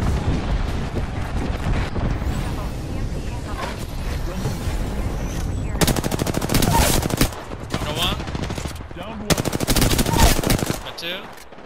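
Gunfire in the video game Apex Legends: rapid automatic bursts, the loudest two dense volleys in the second half, amid explosions and game effects, with a player talking over the action.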